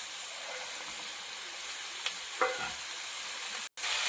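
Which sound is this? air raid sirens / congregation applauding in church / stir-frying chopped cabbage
stir-frying chopped cabbage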